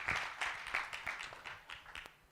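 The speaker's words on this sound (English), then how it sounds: "Let's give him a big round of applause," A sparse, faint round of applause for the jury at an AfricArena summit, a few hands clapping unevenly and distantly, tapering off.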